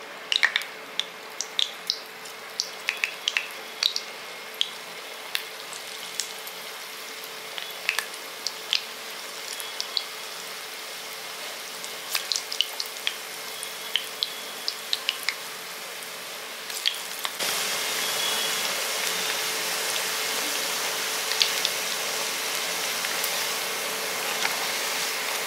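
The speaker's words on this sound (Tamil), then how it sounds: "இப்போ இதை வந்து எண்ணெயில் வந்து லேசாக பொரிச்சுக்க போகிறோம்." Small, loosely rolled dough balls fry lightly in hot oil, a continuous crackling sizzle dotted with sharp pops that thickens into a denser hiss toward the end, with no voices.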